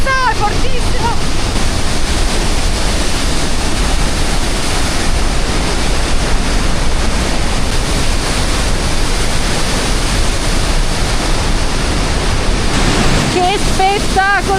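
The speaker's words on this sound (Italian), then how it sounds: "il salto è altissimo, quindi l'acqua scende velocissima" A powerful, continuous roar of water falling from a very high waterfall, loud and close, with faint voices briefly audible at the start and end.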